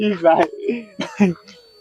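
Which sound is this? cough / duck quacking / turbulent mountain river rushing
cough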